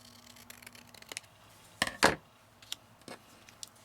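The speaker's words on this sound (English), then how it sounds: "I think I might trim this even a little smaller" Scissors trim a sheet of paper for a handmade junk journal, with a couple of quiet, crisp snips standing out against a soft, near-silent room.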